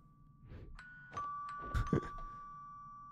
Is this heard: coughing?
no